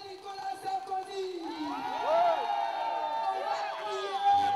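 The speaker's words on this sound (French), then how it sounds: "Applaudissez-vous les patriotes." Supporters of Laurent Gbagbo at a street march in Paris, a crowd cheering and shouting together with loud voices and whoops swelling midway, mixed with applause-like clatter and spoken calls.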